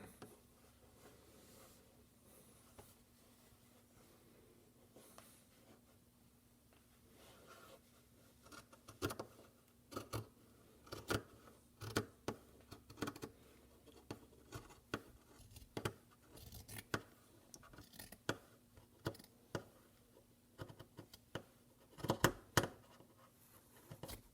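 Scissors snip through a cotton T-shirt while a no-sew face mask is cut out, giving a run of short, crisp clipping sounds that start sparse and become quicker and louder, close by with a faint steady hum underneath.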